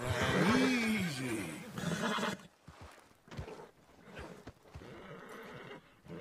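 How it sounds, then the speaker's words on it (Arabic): A horse whinnies loudly and shakily while being broken in Red Dead Redemption 2, followed by quieter snorts and hoof clatter. "قدرنا نروض الحصان الامريكي الضخم زي ما تشوفون في الجيم بلاي"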